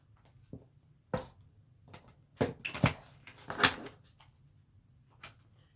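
Tarot cards being shuffled in a quiet room during a Pisces reading, a run of soft, scattered riffles and taps, several louder bursts clustered in the middle, with no talk.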